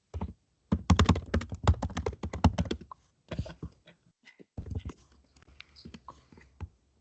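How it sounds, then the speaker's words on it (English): Rapid keystrokes on a computer keyboard during an online symposium call, a dense burst of clicking followed by sparser taps and short pauses, close-miked and moderately loud, with no speech over it. "Whoever's typing, can you mute yourself?"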